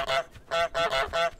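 Two ducks loose on a football pitch during a match give four loud, nasal honking quacks in quick succession, close and clear with no talk over them.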